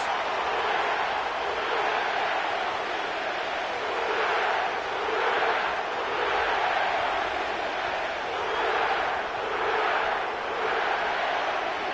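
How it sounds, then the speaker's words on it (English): A stadium crowd roars at the Caesars Superdome in New Orleans during an EA Sports NFL football game. The steady wash of cheering swells and fades in waves, fairly loud, and no voices rise above it. "The crowd is definitely ready"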